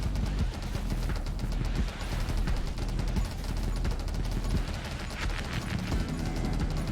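Dense, continuous barrage of oversized magic-lens bullets firing in the game 20 Minutes Till Dawn, a steady crackling roar of rapid shots layered over a low rumbling bed, with no talking.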